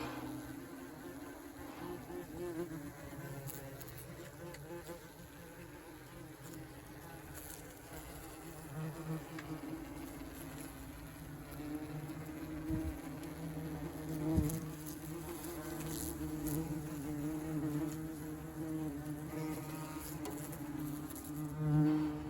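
Yellow jacket wasps buzz continuously during nest removal, including a male beating his wings, a close, steady droning hum with faint background noise.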